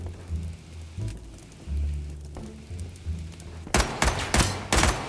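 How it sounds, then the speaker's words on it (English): Gunfire in the video game Lost Light, a series of sharp rattling bursts clustered toward the end, after a stretch of low rumbling ambience. "Oh, just got shot at."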